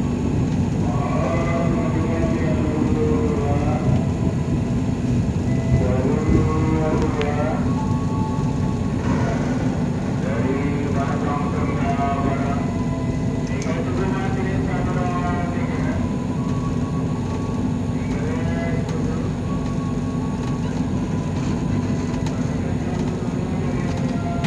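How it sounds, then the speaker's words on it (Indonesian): The KA Singasari passenger train pulls into Haurgelis station in Indramayu, a steady loud rumble of wheels and carriages heard from onboard, with faint squeals and a muffled announcement-like voice in the background. "KA Singasari sampai di Stasiun Haurgelis Kabupaten Indramayu jam 3:55 menit."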